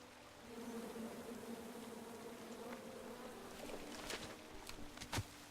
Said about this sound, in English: then you chop down the tree full of angry bees